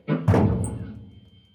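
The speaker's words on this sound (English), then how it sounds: "Did you knock on the door?" A heavy hollow thunk, then a second louder thump that decays over about a second, like a knock or bang on a door in a prison tunnel, with no voices.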